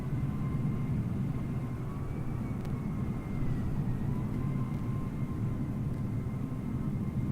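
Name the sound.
airplane taxiing in Microsoft Flight Simulator video game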